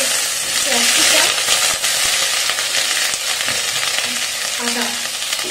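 Onion and capsicum fry Chinese style in a pan, making a loud bright hiss of sizzling with stirring scrapes throughout, and a faint voice underneath.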